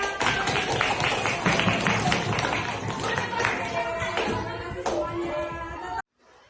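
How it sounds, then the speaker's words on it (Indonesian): A group in a classroom claps hands together, a busy run of sharp, uneven claps and taps with voices mixed in, lasting about six seconds before it cuts off abruptly. "Tepuk tangan kita semua."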